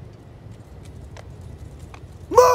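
Mounted horses gallop in the game Mount & Blade II: Bannerlord, faint scattered hoofbeats sounding at a distance before a sudden louder burst at the end.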